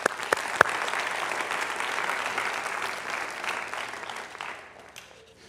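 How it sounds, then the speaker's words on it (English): An audience at a university lecture breaks into applause, a few sharp claps at first swelling into a steady dense wash that tapers off near the end. "That alone is deserving of some applause"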